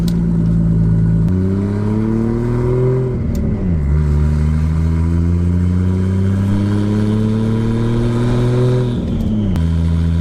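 An RB25DET-swapped Nissan 240SX with a 500+ hp engine build drones loudly from inside the car on its first drive, revs climbing steadily through two gears with a dip and rise at each shift.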